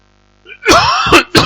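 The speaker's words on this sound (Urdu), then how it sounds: "بار بار کھانسی آتی ہے۔" A man's throat clearing and coughing at close range, a short rasping hack followed by two harsh bursts in quick succession.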